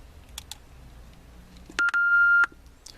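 Key-press beeps from a TYT TH9800 radio's microphone: two short faint chirps, then a louder pair of sharp electronic tones, the second held a bit longer, over a quiet background.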